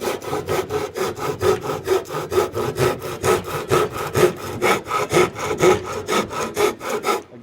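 A handsaw cutting through the top of a wooden frame, with steady rhythmic strokes at roughly two or three per second, loud and close, each push and pull rasping through the wood with no talk.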